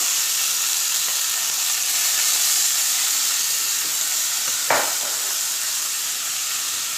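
Onions sizzle in hot oil in a cooking pot, a steady close hiss and crackle with one short clatter partway through, no voices over it.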